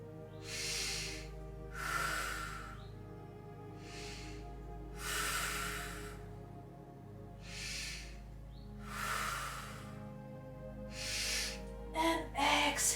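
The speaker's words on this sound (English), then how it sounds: "Take 4 full breaths" Slow, deep breaths during a hatha yoga twist, with about six loud airy inhales and exhales in an even rhythm, close to the mic, over a low steady hum.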